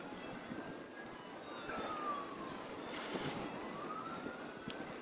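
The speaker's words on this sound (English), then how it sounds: "sirens all over the place." Police sirens wail at a distance across a city street, faint rising and falling tones drifting over a steady background of traffic and ambient noise.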